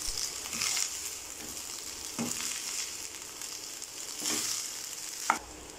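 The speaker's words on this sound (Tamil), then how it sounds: "இப்போ இதை நல்லா மிக்ஸ் பண்ணிக்கலாம்." Vegetables frying in a pan for fried rice are stirred, a constant sizzle broken by several scraping strokes of a spoon and a sharp clink near the end, without speech.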